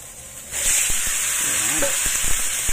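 Pork belly hits a hot pan and sizzles loudly, a bright steady hiss rising sharply and holding under a few clatters of stirring.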